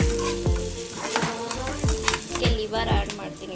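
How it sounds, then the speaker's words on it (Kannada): Curry leaves sizzle hard in hot oil for a village-style liver biryani, a bright, crackling fry up close with bursts of spatter and a few metal pot clanks. "ನೆಕ್ಸ್ಟ್ ಇದಕ್ಕೆ ನಾನು ಕರಿಬೇವು ಹಾಕ್ತಿದ್ದೀನಿ."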